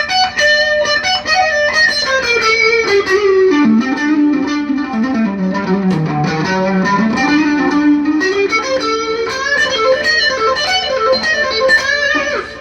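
Electric guitar with effects and distortion runs a Phrygian dominant scale, a continuous stream of sustained, bending notes that descend and climb back up, loud and steady with no talking.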